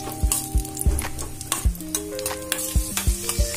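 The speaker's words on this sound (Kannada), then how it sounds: "ತುಪ್ಪ ಕಾಯ್ದ್ಮೇಲೆ ಗೋಡಂಬಿ ಮತ್ತೆ ದ್ರಾಕ್ಷಿ ಇದೆರಡನ್ನ ಅದರಲ್ಲಿ ಹುರ್ಕೊಳ್ಬೇಕು" Cashews and raisins frying in hot ghee in a pan, a steady sizzle broken by repeated scraping stirs of a spoon against the metal, about a dozen strokes in an uneven rhythm, close up and with no talking.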